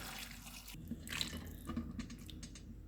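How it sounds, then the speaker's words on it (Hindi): Chicken stock (yakhni) is strained, a faint, close liquid trickle and splash that swells briefly near the middle and then tapers off. "अब हम यखनी को छान लेते हैं।"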